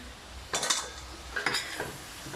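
Noodles stirred into a pan of sauce with a utensil: two short clusters of scraping, clinking stirring sounds over a quiet sizzle, fairly close and soft, with no talking.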